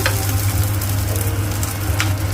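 Onions sizzling in hot oil with dried chilli flakes for chilli paneer, stirred in a pan, giving a loud steady frying hiss with a low rumble and a few scraping strokes of the spoon, close and without talk.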